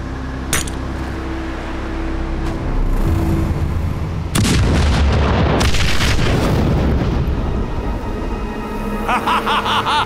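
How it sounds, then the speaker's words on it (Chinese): A hand grenade going off, a sudden loud boom followed by a rumbling tail and scattered debris noise, preceded by quieter ambience. "你知道这玩意儿叫啥？ 手雷。"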